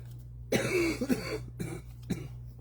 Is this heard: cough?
yes